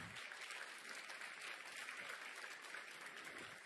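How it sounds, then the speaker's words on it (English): A large banquet audience at an AHEPA gathering in Athens applauds organization leaders, a dense, sustained roar of many hands clapping evenly throughout, heard faintly from a distance. "a round of applause."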